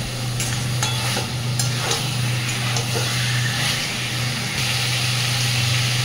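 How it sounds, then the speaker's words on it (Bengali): Chicken keema sautéed in a kadai, a steady loud sizzle with scraping stirs of a spatula against the pan and a constant low hum underneath, no voices. "তো এইভাবে আরও মিনিট 2 আমি এটা চিকেনটাকে কষিয়ে নেব।"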